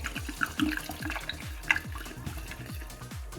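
Spirit is poured into a jar of viburnum pomace, making a steady rhythmic glugging of liquid sloshing into glass, close and moderately loud with no talking.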